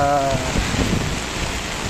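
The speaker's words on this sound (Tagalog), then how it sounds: "patuloy pa rin ang pag-ulan sa lansangan" Steady, loud rain hisses onto a flooded street during Typhoon Carina, a continuous broadband wash that briefly overlaps a voice at the start.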